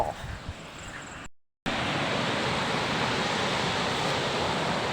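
River water rushing steadily near waterfalls, a dense, loud roar that fills the whole clip after a brief dropout near the start, with no talking over it.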